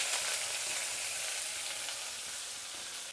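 Onion frying in oil with mustard seeds and cumin for a quick curry, a steady dense sizzle that holds evenly throughout, close and fairly loud with no talking.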